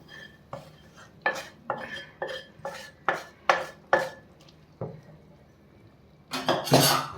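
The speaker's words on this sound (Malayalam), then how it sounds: "ഇനി നമ്മൾ ഉണ്ടാക്കി വെച്ച കടിക്കകത്തോട്ട് കുടഞ്ഞിടുക." Fried pakoras tipped into a pan of kadhi and stirred, giving a run of close clattering knocks and scrapes of a spoon against the metal pan, with a louder burst of clatter near the end and no talk.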